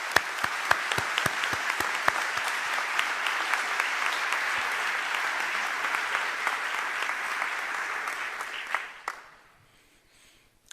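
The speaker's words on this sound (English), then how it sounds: "Let's give this family one round of applause." Sustained applause from the audience at a military ceremony honoring a service family, a steady wash of clapping for about nine seconds with a few sharp nearby claps, then fading quickly to near silence.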